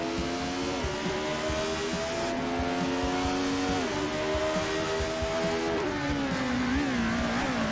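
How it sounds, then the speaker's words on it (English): Engine of a 1975 Formula 1 race car in the Assetto Corsa racing game, a steady high whine that shifts pitch as the car spins out on the Sweden track, with faint tire noise under it. "No, he's going to get me on the inside of this corner. No! Damn it, I spun!"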